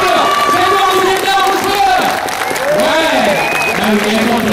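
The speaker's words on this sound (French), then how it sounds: "je voudrais un tonnerre d'applaudissements" An audience at an ice rink inauguration in Rochefort applauds and cheers loudly, with a clear chorus of voices and whoops over the clapping.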